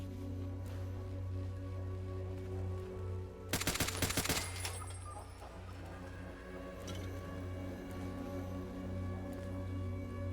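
Gunfire in Fallout: Tale of Two Wastelands: one short, loud volley of rapid shots breaks out over a steady humming game background, then fades back to ambience.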